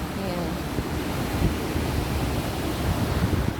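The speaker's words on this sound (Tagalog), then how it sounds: "dito medyo malakas yung alon. Kasi parang mas malakas yung hangin dito" Strong waves surge onto the shore along a seaside lovers' lane while gusty wind buffets the microphone, producing a steady, loud roar of surf and wind noise throughout.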